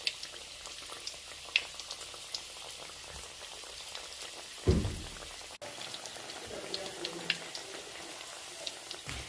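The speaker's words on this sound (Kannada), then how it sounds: "ಈಗ ಆ ಕಲಸಿಟ್ಟಿರೋ ಎಲ್ಲ ಪಕೋಡ ಆ ಸೀಟನ್ನ ಎಣ್ಣೆಯಲ್ಲಿ ಫ್ರೈ ಮಾಡೋದಕ್ಕೆ ಹಾಕ್ತಾಯಿದ್ದೀವಿ." Banana flower pakoda batter bubbles and crackles steadily in hot oil, a soft continuous frying hiss with occasional sharper pops and a brief clatter midway.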